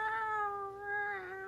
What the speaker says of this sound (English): every time you pick her up, she will meow